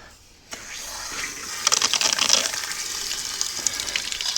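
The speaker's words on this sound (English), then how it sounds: "Let's turn some water on." Water is turned on to flush a 1986 Mercury 90hp outboard, starting with a click and then building into a continuous hissing gush of flowing, splashing water.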